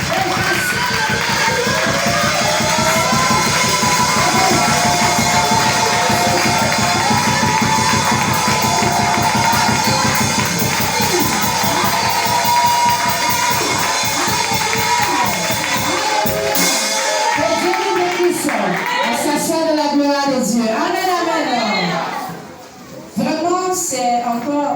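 Church congregation rising in a loud, sustained ovation, with dense crowd cheering and clapping mixed with music and voices throughout, then thinning into scattered shouts near the end.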